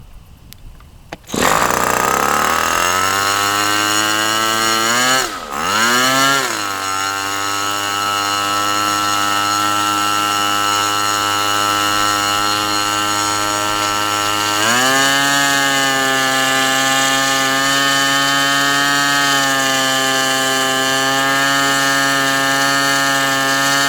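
A Tower Pro 61 model airplane engine fitted with a propeller fires up and runs at a high, steady buzzing whine, dipping and stumbling briefly early on before settling, then jumping to a higher pitch partway through.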